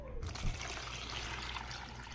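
Water is poured over apples for washing, a steady close splashing and trickling stream that fills the whole moment.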